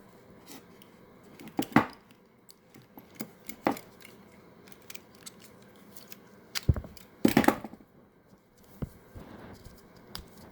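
A knife slicing and picking at the plastic wrapping of an 18650 lithium cell pack from a medical device, giving close, irregular scraping and crackling cuts with sharper snaps between quieter handling noises.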